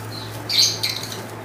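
Lovebirds flutter inside a cage while gathering nesting material, a brief burst of wing flapping and rustling near the middle, fairly close, over a steady low hum.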